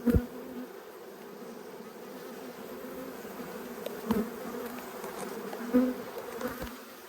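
Honey bees drone steadily from an open hive during a late winter inspection, a close, continuous buzz with a few louder swells as individual bees pass near.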